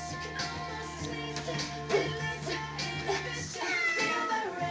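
A cat meows a few times amid a busy, noisy background with some steady humming tones.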